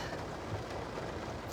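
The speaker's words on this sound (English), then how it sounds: "it is raining right now" Steady rain pours during a storm in Miami, forming a dense, continuous hiss and patter that stays even and fairly loud throughout, with no voices.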